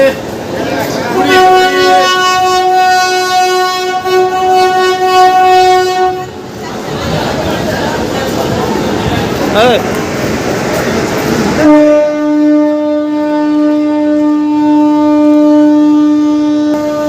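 Indian Railways 12333 Vibhuti Express departing Bardhaman Junction sounds a loud, sustained horn, a long steady tone that breaks off into rumbling station and engine noise, then resumes as a second long blast.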